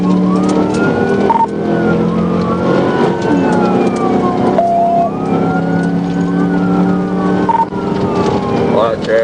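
A police siren wails in steady rising and falling sweeps during a high-speed supercar chase on a dark, empty road, loud and continuous over a heavy engine and road drone.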